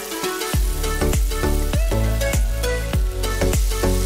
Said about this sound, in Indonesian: Panggangan udah ready, taruh ikan dan langsung kita bumbuin